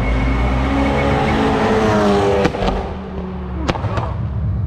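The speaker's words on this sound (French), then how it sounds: "retour de flamme de la Audi TT-RS" Sharp exhaust backfire pops from an Audi TT-RS rally car, two quick cracks then a second pair, bursting over a loud, continuous engine roar at a hillclimb run on Réunion.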